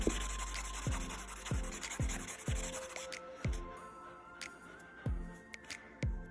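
Rhythmic rubbing strokes of a nail file smoothing dip-powder nail edges after drill filing, repeated roughly every second, close and steady with a soft gritty texture.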